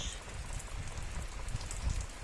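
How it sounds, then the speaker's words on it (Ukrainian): Rain falls steadily outside in May, a dense soft patter of drops hitting surfaces that stays constant and moderately loud throughout, with no voices. "Оце такий дощ."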